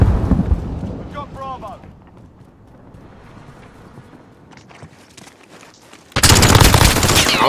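P90 submachine gun hip fire in a video game: a sustained loud burst of rapid automatic shots erupts near the end after quieter moments, with a voice talking early on.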